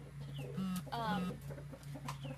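Soft, close clucking and chirps from small chickens, a few short calls over a steady low hum.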